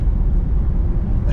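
A Porsche Taycan Turbo electric car accelerates hard up an Autobahn on-ramp, a loud, steady low rumble of road and tyre noise filling the cabin without pause.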